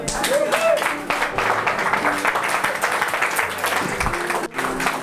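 A church congregation applauds and cheers during a French-language sermon, a dense, steady wash of clapping from a crowd with voices mixed in throughout.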